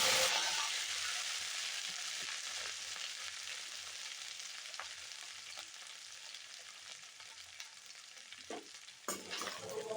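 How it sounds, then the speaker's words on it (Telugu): Okra pieces tipped into hot oil with cumin and mustard seeds in a kadai, sizzling loudly and steadily and fading slightly over time. Occasional stirring scrapes and a clatter near the end come through clearly with no talk. "ఆయిల్ వేడయ్యాక జీలకర్ర ఆవాలు కూడా వేసుకొని బెండకాయలు వేసేయడమే"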